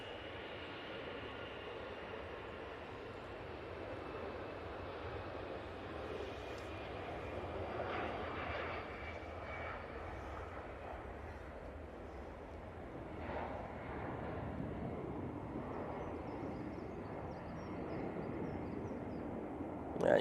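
An EasyJet airliner rolls for takeoff at Manchester Airport, its distant jet roar low and steady, building gently in waves over about twenty seconds.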